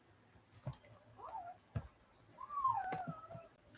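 A dog whimpers quietly indoors, giving a couple of thin, rising whines with a longer drawn-out whine near the end, over low background noise.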